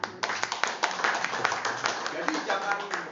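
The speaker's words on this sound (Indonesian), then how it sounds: "Ya, terbiasa ya, tepuk tangan dulu." An audience clapping hands together at a business seminar, a brisk patter of many claps with sharp transients under a continuing voice.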